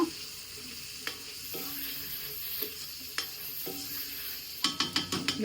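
Tomatoes drop into a pan of frying mutton liver, a steady moderate sizzle broken by sharp scraping stirs and clatters of a spoon, with a quick run of louder knocks near the end.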